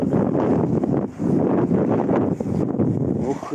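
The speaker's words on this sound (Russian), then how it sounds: "Ух, ветру там сегодня, а?" Strong wind gusting outdoors in a seaside park in Yalta, a loud continuous roar buffeting the microphone with brief lulls.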